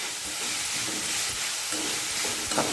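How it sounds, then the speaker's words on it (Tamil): Onions sautéing in a pan for a Tamil drumstick-leaf stir-fry, giving a steady, close sizzle and frying hiss throughout with a faint stirring scrape, no voices. "வெங்காயம் வந்து ரொம்ப வதங்க தேவையில்லை கொஞ்சம் நேரம் வதங்கினா போதும்"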